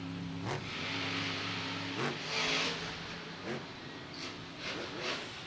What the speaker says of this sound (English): I'm really liking this freaking throttle rhythm, Scott. He's wide open